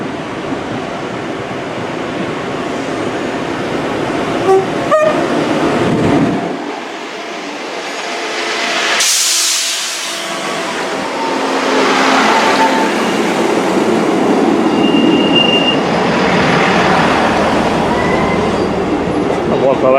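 A Transport for Wales Class 158 passenger train rumbles and squeals nearby as it departs Shrewsbury station, a loud sustained rolling roar with wheel screech rising and fading over about twenty seconds.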